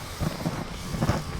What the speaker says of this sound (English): It got too windy